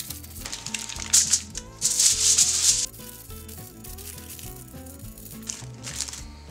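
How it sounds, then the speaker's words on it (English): Aluminum foil crinkles and crumples close up as barbecued ribs are wrapped, crisp rustling bursts with a couple of louder crunches between quieter rubbing. "So I'm gonna go ahead and wrap this up in the aluminum foil."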